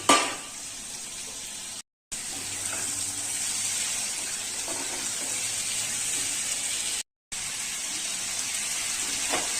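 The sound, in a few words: washed papdi beans and tomatoes added to sizzling masala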